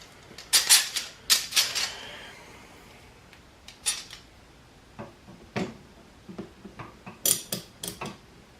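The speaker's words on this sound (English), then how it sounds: "Might try to get a clamp to fit on there." A heavy clamp being fitted onto a wooden American flag craft, giving scattered sharp clicks, taps and small squeaks, close and irregular, with quiet gaps between.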